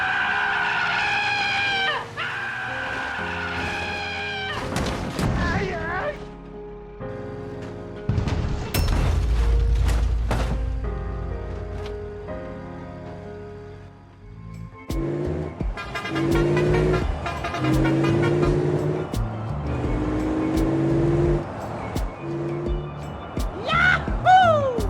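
A truck engine in the video game BeamNG.drive revs hard at full throttle on a dangerous cliff road, mixed with tire skids, a horn toot and crashing impacts, loud and continuous throughout.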